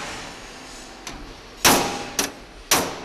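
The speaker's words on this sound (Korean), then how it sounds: "여기저기 망치질에 여념이 없다." Hammer blows in a safe factory, with workers beating metal on a small safe to true its front panel: four sharp metallic clangs spaced irregularly, the first light and the next three louder and ringing, over a low steady workshop hum.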